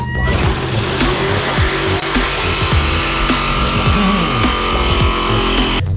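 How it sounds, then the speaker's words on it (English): A power saw cuts through the wall of a cargo trailer being converted into a camper, a loud, steady, harsh grinding roar that runs for the whole stretch with small shifting pitch sweeps and no talk. "So now I'm gonna start using the saw."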